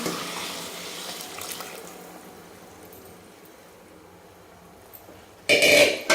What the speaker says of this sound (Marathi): आणि पाणी टाकून घ्यायचं